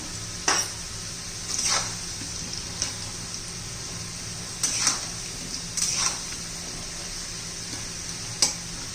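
Elephant foot yam pieces tossed with turmeric fry on a high flame, a steady soft sizzle broken by several sharp stirring scrapes.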